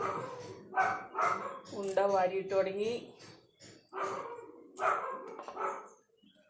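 Dogs bark and yelp at a village home in Kerala, a few short bursts and a drawn-out whine at moderate distance, mixed in with someone talking throughout.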